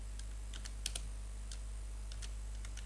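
Keys clatter on a computer keyboard in quick, irregular bursts, close and fairly soft over a steady low background hum, with no one talking.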